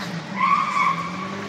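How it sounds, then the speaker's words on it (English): A car doing skids at Raleigh Park, tires squealing in one sustained screech that swells midway and stays loud over the low engine rumble throughout. "Stole mum's car and doing skids."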